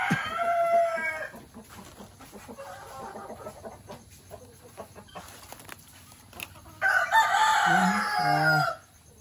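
Chickens in a rainy backyard cluck and crow in short bursts, loud and close at the start and again near the end, with quieter scratching and rustling in between.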